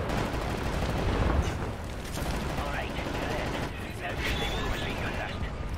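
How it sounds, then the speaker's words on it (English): Dense cover gunfire rattles continuously in a World War video game, with bursts of rapid shots and explosions while voices are heard beneath the noise. "We'll lay down cover fire from here."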